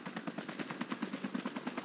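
A helicopter in the mobile battle royale game Call of Duty Mobile, its rotor thumping in a steady rapid pulse with a whining engine, close and continuous throughout.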